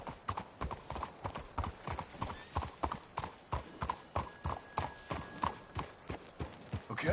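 Horses trot along a path in Red Dead Redemption 2, their hooves making a clear, uneven clip-clop rhythm at moderate distance, with a faint whinny partway through.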